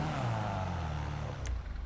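A Karin Everon in GTA Online fitted with a titanium street exhaust revs briefly, a low close engine note sliding down in pitch and fading over about two seconds.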